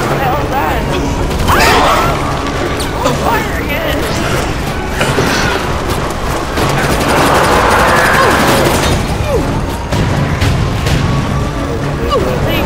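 Heavy, nonstop gunfire and booming blasts in a co-op mission of the video game Resident Evil Operation Raccoon City form a dense, loud barrage, with players talking over it throughout.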